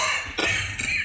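Two short, close coughs sound from a performer on stage in a Marathi drama, over a steady background hum.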